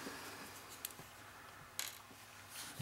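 Small screws are removed from a hard drive inside an HP notebook, giving faint, sparse metallic clicks and ticks from a screwdriver in a quiet room.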